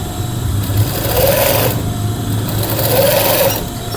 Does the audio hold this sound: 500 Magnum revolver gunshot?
no